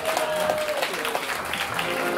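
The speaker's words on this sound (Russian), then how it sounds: "Аплодисменты, друзья." Audience applause at the Jazz People festival following the Dmitry Lugin trio, a short burst of steady clapping with a faint voice or tone briefly audible.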